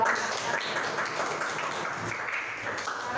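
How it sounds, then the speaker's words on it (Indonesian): An audience claps for a group of university students, a soft, steady patter of hands heard at moderate distance with no talk over it. "Tepuk tangan buat"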